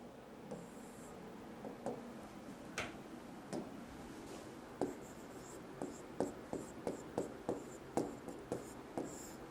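Pen writing out a point by hand during a class 8 science lesson, a run of quick scratchy strokes and taps in an irregular rhythm, close and faint, with no talk.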